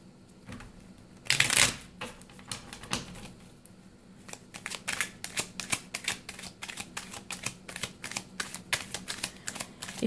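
Someone shuffles a deck of tarot cards up close, starting with a sharp riffle burst, then a long run of rapid, quiet flicking and tapping as the cards are mixed, with no talking.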